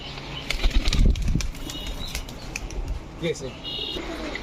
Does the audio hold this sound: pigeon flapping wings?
yes